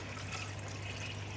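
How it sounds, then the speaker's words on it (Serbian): An aquaponic system's pump runs in a kitchen with a steady low hum while water trickles and flows continuously, close and even throughout. "Ja ću sad startati tu pumpu da vam pokažem kako to sve skupa ide"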